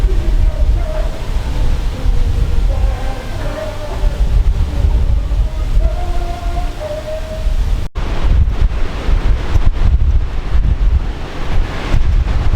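Strong wind buffets the microphone by rough seawater, with surf churning underneath in a steady, loud roar that gusts harder in the second half.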